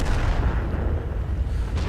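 A tank cannon shot in World of Tanks, a deep, heavy boom with a long rumbling low-end roll sustained across the clip, loud and close, with no voices.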